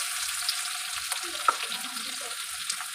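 Chopped onion with a green chilli fries in hot oil, giving a steady close hiss with a few faint stirring clicks underneath.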